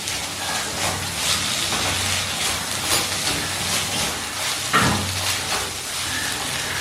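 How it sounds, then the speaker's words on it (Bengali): Spices frying with onions in a pan over a medium flame give a steady, close, broadband sizzle and hiss throughout, with a brief louder crackle near the end and no talking. "এই দুটো মশলাও পেঁয়াজের সাথে ভালো করে ভেজে নিতে হবে। সব কিছু মিডিয়াম ফ্লেমেই ভেজে নিচ্ছি।"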